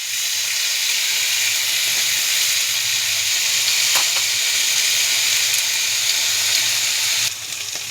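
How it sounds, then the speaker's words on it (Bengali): Chopped banana flower fries in a pan with salt, turmeric and green chilli, giving a steady, close sizzle and hiss that runs throughout, with a faint clink or two and no talking. "দেখুন, মোচাটা কষানো কিন্তু হয়ে গেছে।"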